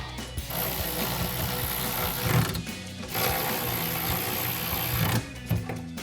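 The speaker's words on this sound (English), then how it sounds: "Grab our ratchet, 13mm socket, and then a 13mm wrench," A ratchet with a 13mm socket tightening bolts on a truck step bracket for a RAM 1500, close rapid clicking in two bursts separated by a short pause, with no voices.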